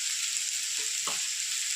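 Banana stem fries in a pan with a steady, close sizzle and a faint scrape of stirring partway through.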